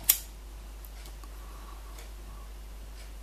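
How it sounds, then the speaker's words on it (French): A lighter flicked once to burn off stray thread fibres, giving a single sharp click at the very start, followed by faint, sparse ticks in an otherwise quiet room. "Je donne un tout petit coup de briquet pour éliminer un maximum"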